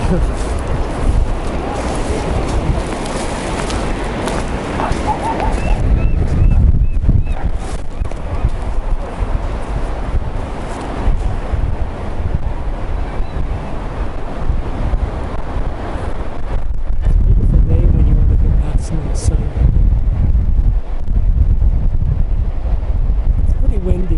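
Strong February wind at the beach buffets the microphone with a heavy, continuous low roar, mixed with the rush of surf, rising and falling in gusts and growing loudest near the end.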